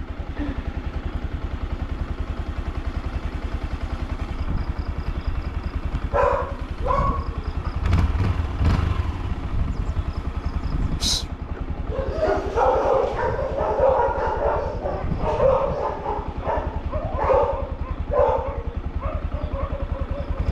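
Dogs chasing a moving motorcycle: engine drone runs throughout while barks and yips come in scattered bursts, louder and denser toward the end, close by, with some talk mixed in.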